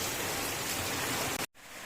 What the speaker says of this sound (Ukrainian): Лий, дощику, лий.